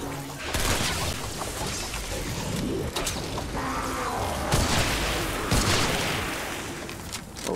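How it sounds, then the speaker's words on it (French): A grenade thrown and exploding in a video game, a booming blast among ongoing gunfire and game noise, loud and continuous over several seconds. "Grenade lancée."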